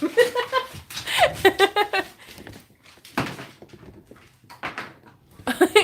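Several dogs whimper and yelp in excited bursts while being handed treats indoors, loud and close, with a person talking and chuckling between them.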